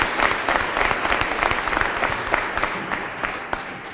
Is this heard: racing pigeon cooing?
no